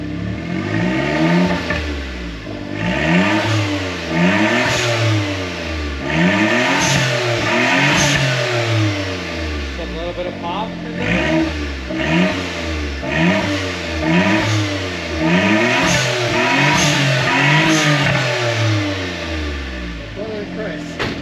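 A 1996 Suzuki Jimny engine with a straight-piped exhaust, no muffler, revs up and down repeatedly, loud and close, each blip of the throttle rising and falling in a rough, rhythmic series.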